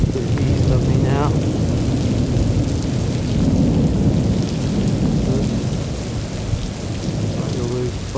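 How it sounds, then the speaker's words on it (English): A monsoon thunderstorm in Scottsdale, Arizona: heavy rain pours steadily while deep thunder rumbles roll through, loud and close, with no one talking. "storm is to the east of me now."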